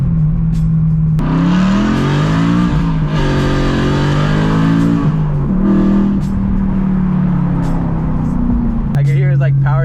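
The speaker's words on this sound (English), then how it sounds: "I'm not used to driving a loud car anymore" A BMW E92 M3 engine roars loudly and continuously, revving up and down in heavy, sustained bursts close by, driven in the rain.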